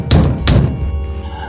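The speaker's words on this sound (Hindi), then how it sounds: "तभी अचानक उनके दरवाजे पर जोरों से खटखटाने की आवाज आई।" Loud, hard knocks land on a house door at night, two heavy close thuds in quick succession followed by a fading resonance, with no voices.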